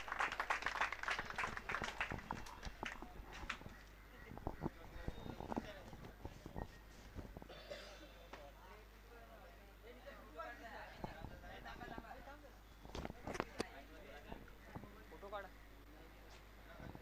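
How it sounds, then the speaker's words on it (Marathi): Applause at a prize ceremony, with a crowd clapping in dense bursts at the start that thin out later, mixed with ongoing talk over a loudspeaker. "मित्रांनो, एकदा जोरदार टाळ्या झाल्या पाहिजेत संदीप दादांच्यासाठी"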